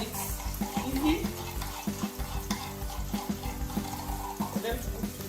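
Garlic and ginger frying with onion in a pan for a fish stew, a soft sizzle broken by repeated rhythmic stirring scrapes, with a faint voice in the background.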